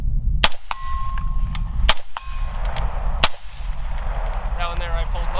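Three sharp gunshots from a rifle fitted with a Lucid HD7 Gen 3 red dot, fired at a target 100 yards away outdoors, crack out in an uneven group over a steady background rumble.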